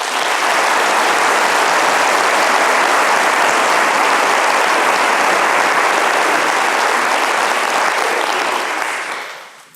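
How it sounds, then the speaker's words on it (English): An audience breaks into loud, sustained applause, a thick wash of clapping that holds steady for several seconds before tapering off at the end. "Let's give everybody here who's doing that a round of applause"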